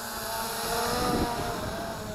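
A ZLRC SG906 GPS Pro camera drone flies back on a low-battery return to home, its propellers giving a steady, even whirring drone at moderate distance, with no talk over it.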